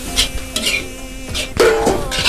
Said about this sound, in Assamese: শাকখিনি লৰাই ল'ব লাগিব লৰাই অলপ ভাজি ল'ব লাগিব বইলকৈ ভাজিছোঁ